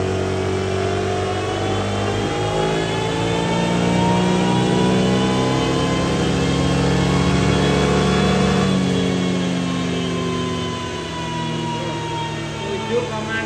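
A car engine held at full throttle, revving with a steady, loud drone for over ten seconds that swells slightly toward the middle before easing off.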